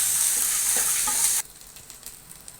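Cabbage hits a hot pan for a cabbage and egg fry and is stirred, giving a loud, steady sizzle that cuts off abruptly partway through, leaving quiet scraping and faint clatter.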